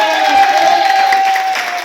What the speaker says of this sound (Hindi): इस कंपनी मालिक के लिए जोरदार तालियां बजाओ दिल से।